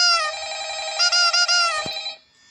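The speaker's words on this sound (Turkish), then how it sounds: "Ama telefon çalıyor." A telephone rings in the horror video game Five Nights at Freddy's, a steady electronic trill that breaks into a few quick pulses and then cuts off, loud and close with no talking.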